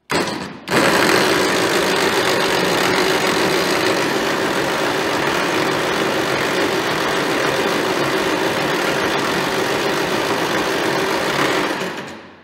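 An old Farmall tractor engine that sat unused for many years cranks steadily and loudly on a start attempt, a sustained mechanical churn lasting about eleven seconds after a brief pause before ending abruptly.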